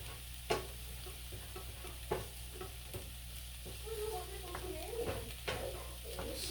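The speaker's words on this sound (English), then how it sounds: "So now I'll just let it simmer for a little bit more." Shepherd's pie filling sizzling as it simmers in a pan, a soft continuous crackle with a few louder knocks and scrapes of stirring, fairly quiet and close.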